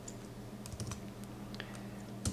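Quiet keystrokes on a computer keyboard entering a short value, a few scattered clicks with a small burst near the end, over a steady low hum.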